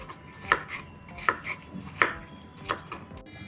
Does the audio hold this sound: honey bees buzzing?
no